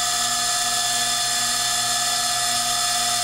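High-pitched steady whine of a rotary cutter engraving a glass beer bottle, running at a slower speed, loud and continuous throughout with no voices.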